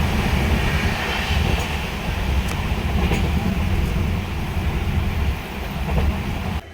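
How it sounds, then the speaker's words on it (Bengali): The Radhikapur Express pulls out of platform 2 at Naihati with a steady, loud rumble of rolling wheels and carriages, continuous for several seconds with faint clicks over the low drone. "2 নম্বর প্ল্যাটফর্ম থেকে চলে যাচ্ছে রাধিকাপুর এক্সপ্রেস।"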